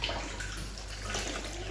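Water is poured into a container of tomatoes ready for blending into homemade tomato paste, a continuous close splashing pour with a low steady rumble beneath and nobody speaking.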